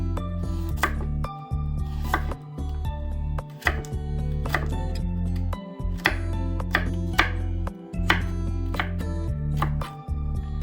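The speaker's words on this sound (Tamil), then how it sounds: "இப்போ நான் ஒரு கேரட் எடுத்து நீளமாக கட் பண்ணி" A carrot being cut into long strips on a board, a rapid run of crisp knife chops in uneven bursts with brief pauses, close and clear, with a faint ringing tone underneath.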